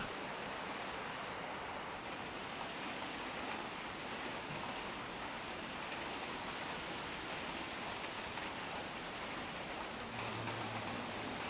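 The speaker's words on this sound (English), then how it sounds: "There's scarcely a day without at least one heavy shower." Heavy rain shower during the rainy season in Guyana, a steady, even hiss of falling rain that carries on unbroken with no voices, fairly soft in level.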